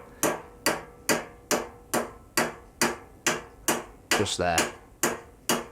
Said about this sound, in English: very, very gently tapped around the edge of the bearing race